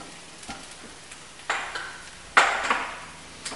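Mashed potato patties with egg and parsley cook in a frying pan, giving a quiet, steady sizzle broken by a few louder scraping or stirring bursts from a utensil. No one speaks.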